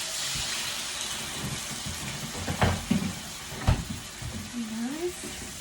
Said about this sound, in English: So I've just put the garlic in and it's frying.